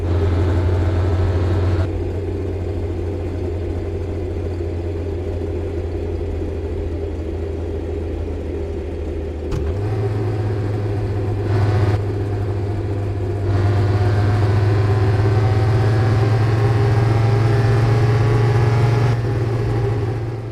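Car driving along after a full winter-car suspension replacement, steady mid-pitched engine drone with road rumble throughout, a brief shift and slight rise in engine tone partway, no talking.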